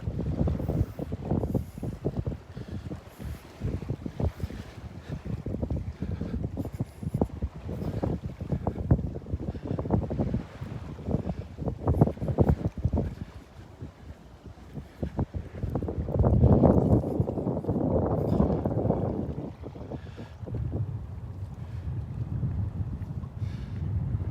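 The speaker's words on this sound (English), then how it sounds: "That wind blowing right into the camera now, right into my face." Wind buffets a camera microphone on a beach during a morning walk at Delnor-Wiggins, a loud continuous rumbling roar with gusty surges, strongest around the middle and later stretches, with no voices.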